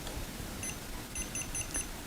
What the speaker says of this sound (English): I guess you can hear it beeping